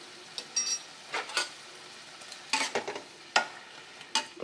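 Spice paste with chopped tomato, green chilli and salt being stir-fried for a thin fish curry, with repeated spatula scrapes over a gentle sizzle, close but fairly quiet.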